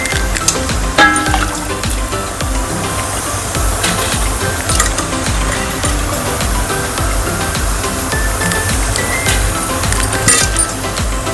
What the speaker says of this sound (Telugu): మరుగుతున్నాయి నీళ్ళు.